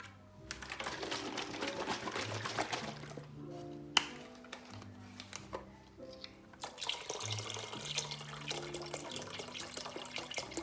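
Boxed broth pours into a soup pot for meatball spinach soup, making a continuous, fairly quiet liquid gush and splash with a few clunks from the carton.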